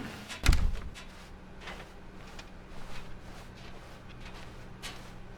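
A door opens in The Stanley Parable video game, with one short, sharp clunk near the start followed by a quiet, hollow room tone.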